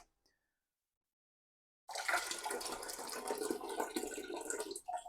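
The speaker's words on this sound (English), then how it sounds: "at this point, we'll tip the water out anyway." Water is tipped out of a warmed glass jar used for splitting a beer kit, a sudden splashing gush after near silence that keeps pouring and gurgling for a few seconds, close and unaccompanied.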